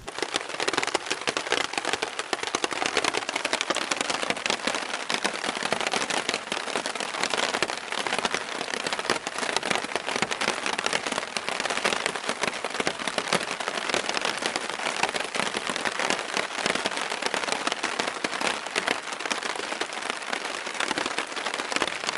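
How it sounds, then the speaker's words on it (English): Steady rain falls outdoors in a wilderness setting on a lakeside portage trail, a dense, even patter on surfaces that continues unbroken at moderate loudness with no voices. "Yes, it is raining."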